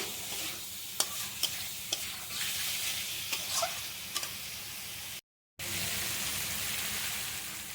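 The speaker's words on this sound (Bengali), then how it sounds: "এই মশলাটা খুব সুন্দর কষা হয়ে গেছে তেল ছেড়ে দিয়েছি এবার আমি দিয়ে দিচ্ছি আলাদা একটু ভালো করে কষিয়ে নেব" Spice paste frying in oil for an egg and pointed gourd curry, with a steady close sizzle broken by sharp utensil clicks and scrapes as it is stirred, briefly cutting out before the sizzling resumes; no talking.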